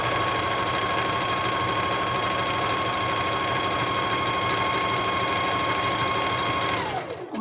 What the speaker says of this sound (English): We are towards the end of sewing this jacket.